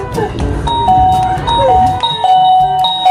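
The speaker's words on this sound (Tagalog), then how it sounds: "Ay, may doorbell pala dito. Pipindutin ko nga." A doorbell pressed at a house door rings out in clear repeated electronic chime tones, loud and close, with bright sustained notes following one another over a low background rumble.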